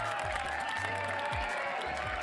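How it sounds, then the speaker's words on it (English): Canned applause sound effect plays on a news comedy show, a steady wash of clapping and crowd noise lasting a couple of seconds, with low thumping tones underneath. "More applause."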